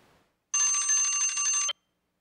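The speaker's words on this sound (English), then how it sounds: "I believe I heard the phone ring a couple of times." A telephone bell rings once in a single sustained burst of about a second, loud and bright with a buzzy metallic tone, in an otherwise quiet city council meeting room.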